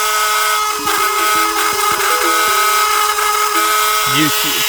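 A polishing machine runs while Glock pistol parts are polished, giving a steady close-up mechanical whine with shifting tonal hums throughout.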